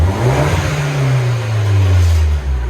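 A 2009 MINI Cooper Clubman Turbo S with a muffler delete revs up, a loud, close exhaust rising and falling in pitch over a few seconds.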